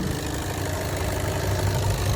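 A 2019 Skoda Octavia A7 with a 2.0 diesel engine and automatic gearbox runs at idle, a steady low rumble with a faint diesel clatter, continuous and close with no talking.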